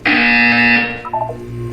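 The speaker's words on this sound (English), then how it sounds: "You will hear a buzzer." A loud electronic buzzer from the game Portal 2 blares for nearly a second, then a short series of softer stepped tones follows.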